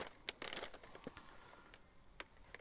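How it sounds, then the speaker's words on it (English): A brown paper bag from a record store crinkling and rustling in the hands, a few short crisp crackles clustered early then scattered sparse rustles, close and quiet with no talk. "Why do they give you a brown paper bag?"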